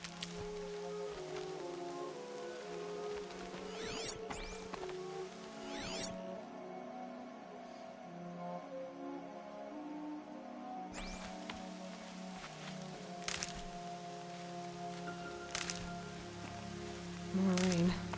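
Steady rain patters in a Horizon Zero Dawn game scene, a soft continuous wash running throughout beneath game music and brief louder effects, with no one speaking.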